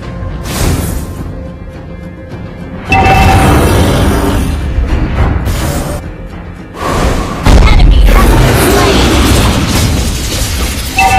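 A turret blows up in a Mobile Legends match with loud, dense booming blasts under busy game effects and announcer voice lines.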